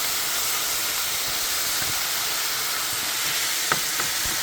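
Bulgogi sizzles in a hot pan, a steady broad frying hiss filling the clip with no talk, broken near the end by a couple of short sharp pops or utensil taps.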